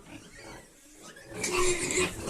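Piglets grunting and squealing nearby, quieter at first then rising into a louder, busier stretch of squeals.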